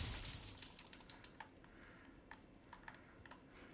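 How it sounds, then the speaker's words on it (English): Faint, scattered clicks of a keyboard or mouse during a Resident Evil 4 Remake session, irregular taps spaced out over a quiet background after a brief louder rustle at the start. "You could hear me clicking."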